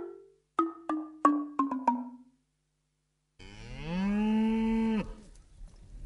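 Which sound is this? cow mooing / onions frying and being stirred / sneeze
cow mooing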